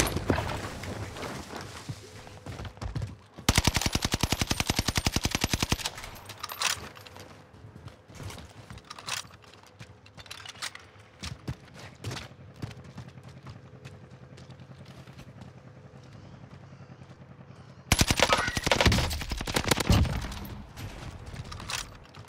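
Gunfire in COD Warzone Pacific battle royale: two loud sustained bursts of rapid automatic fire stand out, with scattered single shots and footstep-like clatter in between at a lower level.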